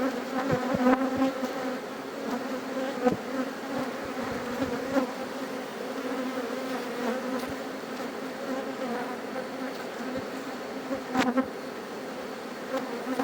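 Honeybees buzz steadily and loudly throughout a strong colony's hive inspection, a dense continuous drone with a few sharper knocks and bumps of handling mixed in.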